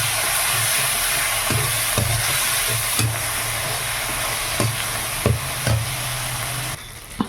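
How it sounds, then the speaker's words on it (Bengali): Spice paste with chili powder frying in a pan for a fig curry, a constant hiss of sizzling broken by regular scrapes and taps of a spatula stirring against the metal. "তো এখন দিয়ে আবার একটুখানি কষিয়ে নিই।"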